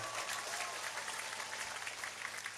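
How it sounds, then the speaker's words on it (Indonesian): An audience at an Islamic religious lecture applauds steadily, a dense wash of clapping throughout with no clear voices. "kasih aplaus tepuk tangan untuk"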